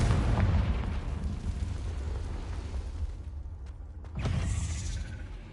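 A Confringo fire spell cast in a wizard video game erupts as a loud, booming explosive blast with a rumbling tail, followed about four seconds later by a second, sharper burst.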